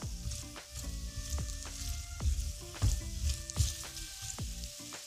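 Vegetables sizzle and fry in a pan alongside onion for a Jamaican-style dish, with repeated scraping tosses and stirring clatter at an uneven rhythm, close and fairly loud, with no talking.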